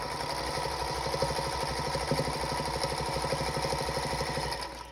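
Sewing machines run steadily for a few seconds while chain-piecing quilt blocks, a close, fast, even mechanical whirring and ticking that stops just before the end.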